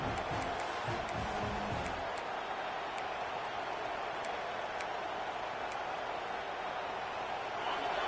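A video game football stadium crowd produces a steady, even roar with no clear peaks, and a low voice talks briefly at the start.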